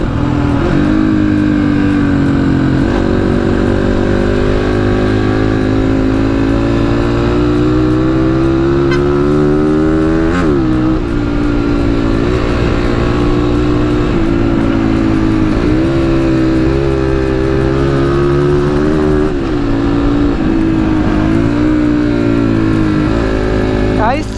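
Two Yamaha RX100 motorcycles ride along a road in Pokhara's Lakeside area, their two-stroke engines droning close and loud as they rise and fall with throttle changes, while voices talk over the engine noise.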